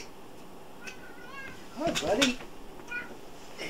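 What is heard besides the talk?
pet cat meowing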